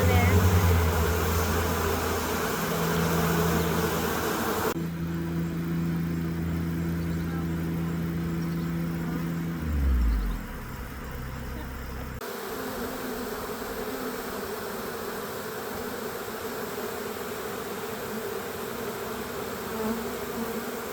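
Honeybees at a hive fan their wings, moving a lot of air in a steady, dense buzzing drone that runs throughout, with low engine-like hum and a shift in tone partway through.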